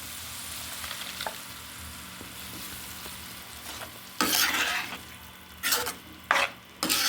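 Tomato gravy is added to a pan for paneer kaju masala: scraping stirring with bursts of sizzling frying, several loud spurts near the end after a quieter stretch.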